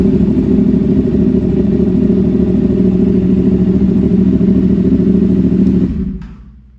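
A CFMOTO 450SR motorcycle with a 270-degree crankshaft twin and aftermarket slip-on exhaust idling loud and close, a deep rumbling steady drone that cuts off near the end, trailing into fading quiet.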